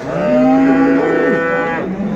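A calf or cow gives one long, loud, close moo at a livestock market in Göksun, Turkey, a drawn-out tone that trails off toward the end.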